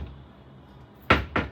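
A house door at night, two quick close knocks or bangs, one after another, following a quiet stretch.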